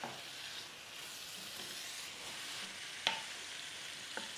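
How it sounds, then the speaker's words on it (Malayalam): Kanjirappally beef fry sizzles quietly in a pan while being stirred, a soft steady frying hiss with a sharp spoon scrape near the end and a smaller knock after it, no voices. "ഇങ്ങനെ ഇളക്കി ഇളക്കി ഇതിൻ്റെ വെള്ളമൊക്കെ വറ്റി ഇത് കറുത്ത് വരണം"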